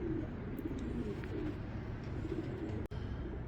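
Pigeons cooing outdoors, a steady low murmur of soft coos running throughout at moderate distance, with no talking over it.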